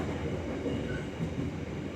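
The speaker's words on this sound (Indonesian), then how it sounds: "di sini kita bertemu kereta api lokal Garut Cibatuan" A local Garut–Cibatu passenger train rumbles past on the line near Nagreg station in Indonesia, a loud, steady rolling roar of wheels and carriages that holds constant throughout, with no speech.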